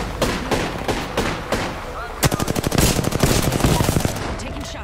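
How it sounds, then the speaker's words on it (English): Apex Legends gunfire: a few spaced single shots give way to a loud, fast automatic burst of closely packed rounds, then the shooting trails off, set against busy game sound. "Taking shots. Reloading. Oh, people on me. Opening fire."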